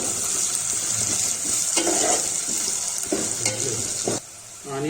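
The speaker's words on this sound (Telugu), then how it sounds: "ఇప్పుడు కొంచెం కరివేపాకు వేసుకొని కలుపుకుంటాం" Onions sizzle steadily in a hot pan as curry leaves are stirred in, with a spoon scraping and clanking against the pan in short strokes over the constant loud frying hiss.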